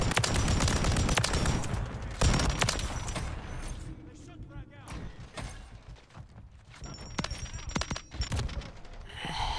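Bursts of rapid machine gun fire in Call of Duty Modern Warfare III zombies mode, loud and dense early on, thinning to scattered shots amid game noise and voice-like sounds, then picking up again near the end.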